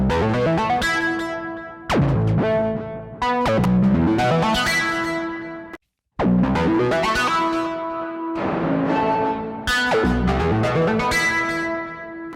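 Spacey synth part for a melodic techno track, with long reverb tails and deep washy depth, playing sustained layered chords with rhythmic gaps and brief cut-outs, loud and alone with no voice.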